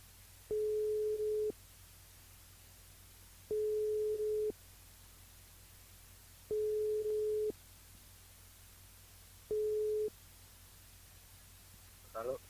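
Four long steady electronic tones, each about a second long and evenly spaced by gaps of a couple of seconds, sound as a telephone rings out during a live French radio call-in game show, with faint line hiss between tones and a brief voice at the very end.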